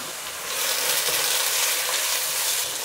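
Spices sizzle and fry steadily in a pan for an eggplant curry, a loud continuous crackling hiss with faint stirring and no voices.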